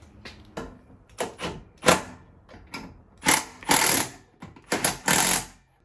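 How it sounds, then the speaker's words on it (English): A wrench tightens the lug nuts, including a locking lug, on a Jeep Wrangler spare wheel mounted on a Teraflex HD rear tire carrier. It makes a series of close, sharp ratcheting bursts in irregular spurts, some long and loud, with short pauses between them. "And I'm going to tighten my wheel."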